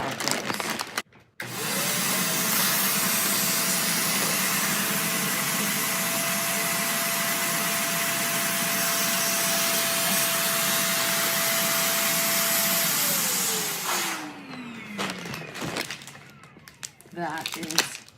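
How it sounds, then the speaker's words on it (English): A vacuum pump draws the air out of a storage bag stuffed with sweaters, giving a loud, steady drone that holds for about eleven seconds and then winds down, with rustling and handling noise before and after. "I've never tried a vacuum seal bag"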